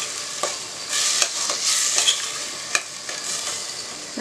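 Tomatoes with ground coriander and cumin sauté in a pan. A steady close sizzle runs throughout, broken by several sharp spoon scrapes and stirs at irregular intervals.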